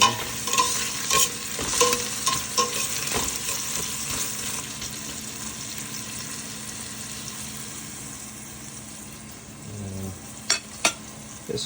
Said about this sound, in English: I'm gonna let it brown.